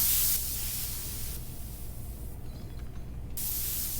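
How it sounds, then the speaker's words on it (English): Nitrogen venting from a refrigerator's refrigeration system through the red valve on a service manifold into the open air: a steady, loud broadband hiss that runs the whole time and shifts in tone partway through. "Nitrogen from the system will vent into the atmosphere."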